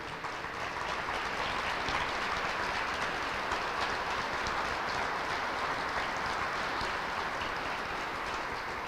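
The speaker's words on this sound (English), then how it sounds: "Let's give them a round of applause, all the ownership group." An audience gives sustained applause for the ownership group of the 2024 Kentucky Derby winner at a celebration with Governor Sanders, a dense, even wash of clapping with no pauses or voices.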